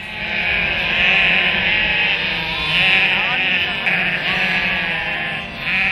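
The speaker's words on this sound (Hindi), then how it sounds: "रास्ते में दिखने वाला भेड़ का झुंड काफी मनमोहक होता है।" A flock of sheep bleats repeatedly along a Himalayan route near Mount Kailash, with several overlapping calls close by over a steady outdoor background.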